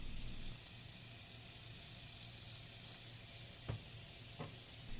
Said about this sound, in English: run the filter under warm water and apply dishwashing soap